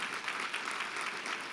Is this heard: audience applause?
yes